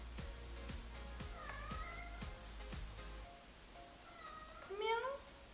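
A cat meows indoors, a short call early on followed by a louder, rising meow near the end, with a faint rhythmic tapping beneath the first half.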